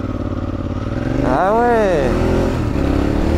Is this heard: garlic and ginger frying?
no